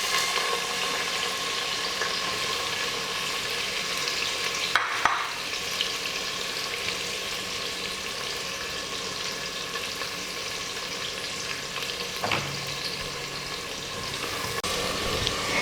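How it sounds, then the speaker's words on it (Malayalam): Sliced onion fries in hot oil in a pan for chicken biryani, a continuous close sizzle with occasional stirring scrapes and faint clinks throughout, steady and unbroken with nobody speaking. "ഇനി നമുക്ക് എടുത്തു വെച്ചിരിക്കുന്ന ഒരു പകുതി സവോള ഇതിനകത്തോട്ട് ഇട്ട് കൊടുത്തിട്ട് അതൊന്ന് വറുത്തെടുക്കാം."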